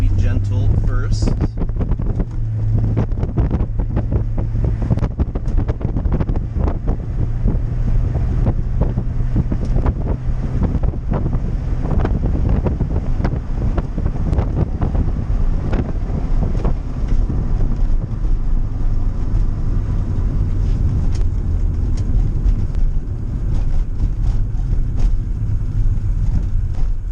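A Volkswagen Corrado driving on the road, with steady low engine drone and tire rumble under heavy wind buffeting on the microphone and someone talking intermittently.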